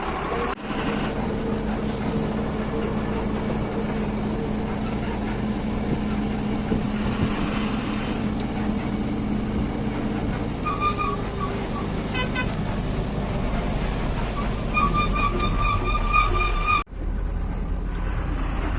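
A car's engine and road noise rumble steadily throughout on a mountain ghat road, with a run of repeated horn toots sounding in the later part.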